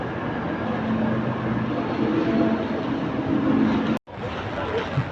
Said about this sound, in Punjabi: ਮੈਂ ਹੁਣ ਜਾਣਾ ਪਿਆ ਟ੍ਰੇਨ ਸਟੇਸ਼ਨ ਦੇ ਵੱਲ ਤੁਰ ਕੇ ਕਾਫੀ ਵੱਡਾ ਟ੍ਰੇਨ ਸਟੇਸ਼ਨ ਇੱਥੇ